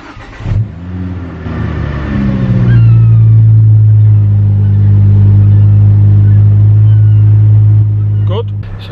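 A Ford Focus ST225 petrol engine with a newly fitted plenum cranks and catches, then settles into a loud, steady idle that holds close by until the end.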